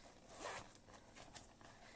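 A gold zipper on a forest green makeup bag with a hot pink lining is pulled open in one close, soft, continuous rasp lasting about two seconds.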